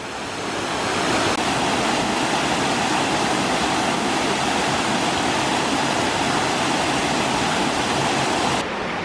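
Steady, roaring rush of a waterfall at Rosemarkie Fairy Glen on the Black Isle, loud and close, a continuous wash of falling water with no voices.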